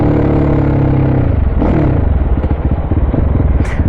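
A supermoto motorcycle engine runs loud and close at a low, lumpy idle, its steady throb dropping in pitch partway through and settling into an uneven pulsing burble.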